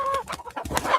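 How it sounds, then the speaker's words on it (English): Chickens cluck in short, close, bursty calls, a quick run of clucks and squawks lasting about a second. "Chickens!"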